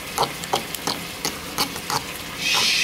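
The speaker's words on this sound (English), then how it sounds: "Then you add your milk. Cup of milk. And you stir it up." Mashed potatoes being stirred with a cup of milk in a pot, a series of short, regular scraping strokes, close and moderately loud, ending in a steadier hiss.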